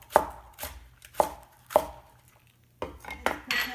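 A knife chops green vegetables for Chinese curry chicken on a cutting board in sharp, separate taps, three evenly spaced, then a pause and a few quicker cuts, close and clear.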